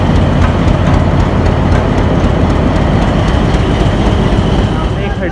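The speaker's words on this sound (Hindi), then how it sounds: "तो मेलोडियस और स्वीट चेकिंग आप लोग सुन रहे हो आल्को लोकोमोटिव PH820 की।" An Alco PH820 diesel locomotive engine runs steadily, a loud continuous low rumble with rail-yard clatter throughout.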